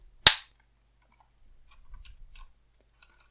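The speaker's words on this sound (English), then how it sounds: "On the back it has 2 feet, they're actually really solid. You can hear it when they go back in." Folding feet on the back of an AULA F2012 mechanical keyboard snapping back in, one sharp loud plastic snap followed by a few fainter clicks and handling rustle nearby.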